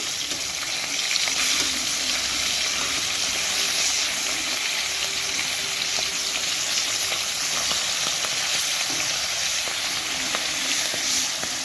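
Hilsa fish pieces fry in hot oil with a dense, continuous sizzle and hiss, close and steady, with faint scrapes as the pieces are turned over.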